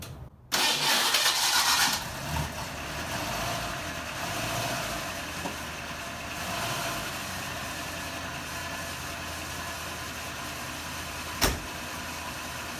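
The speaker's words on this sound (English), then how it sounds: "I'm going to start it up, and when I do, you should see the headlight doors completely closed." Lincoln Mark VI engine cranks and fires with a loud burst of starting noise, then settles into a steady, moderately loud idle that runs on alone, broken once by a short sharp click near the end.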